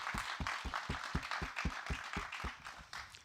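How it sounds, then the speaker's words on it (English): Audience at a company meeting claps in a steady, evenly spaced rhythm, fairly quiet, the sharp hand strikes distinct against the hall's background. "let's give them a big round of applause"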